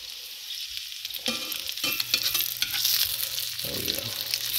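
Red hot links fry in a pan, a loud steady sizzle and crackle with scattered pops and soft scraping as the sausages are turned, with no talking.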